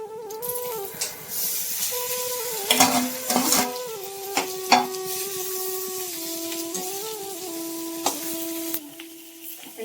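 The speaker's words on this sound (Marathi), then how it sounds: "चांगलं मिक्स करून घेते बटाटा" Medium-cut potato chunks fry in a very hot pan while being stirred, with a soft steady sizzle and occasional clinks and scrapes of a utensil against the pan; a sustained tonal hum runs underneath and nobody talks.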